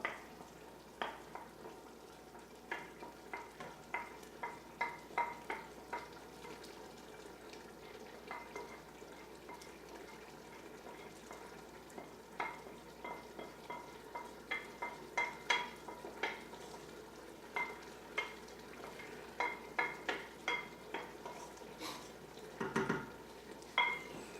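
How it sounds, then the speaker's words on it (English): Roux stirred into a roast beef, basil and rosemary soup in a home kitchen: a spoon scraping and clinking against the pot again and again over a soft bubbling simmer, close and fairly quiet. "this roux is ready to add to the soup, so I'm going to add that"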